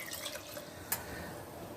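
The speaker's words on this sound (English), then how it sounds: "we're going to put our 5 cups of water in" Water poured into a cooking pot for beans and rice, a soft continuous trickling and dripping splash held at low level, with a couple of brief sharper spurts, heard close and alone.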